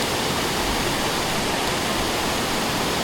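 Steady, dense rush of falling water, a full broadband roar that holds constant throughout with no voices.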